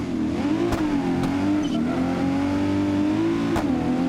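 A Mercedes car engine hums steadily at close range, with a low continuous drone and slight rises in pitch as it accelerates while driving.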